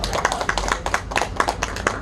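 An audience at a folk pumba street performance during a lantern festival claps along in a steady, quick rhythm, close and lively, with a faint voice underneath.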